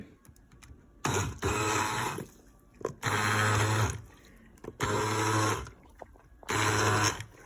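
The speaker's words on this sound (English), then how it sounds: "This is my immersion blender. So I just put it in like this and I start to it." A motorized immersion blender purées vegetables for chicken soup in four loud bursts of about a second each, separated by short pauses, close up and without talk.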